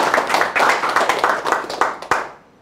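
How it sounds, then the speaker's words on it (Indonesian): A church audience claps and cheers for the pastor: loud, dense applause with rhythmic clapping that swells, then tapers off and falls quiet at the end. "Berikan sorak-sorai buat dia."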